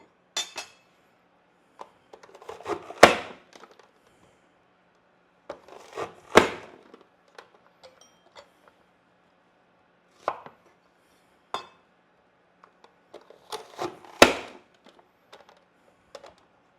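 Knife chopping onion and celery on a cutting board, sparse clusters of sharp taps and thuds separated by quiet pauses, close and clear with no talking.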